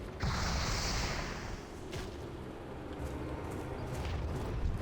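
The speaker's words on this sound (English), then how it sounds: "Whoa, what an explosion. Several, in fact." Explosions in World of Warcraft: Mists of Pandaria, a bursting whoosh at the start followed by several rumbling blasts and debris under a dense, moderately quiet game soundscape.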